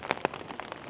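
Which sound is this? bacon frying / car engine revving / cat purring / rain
rain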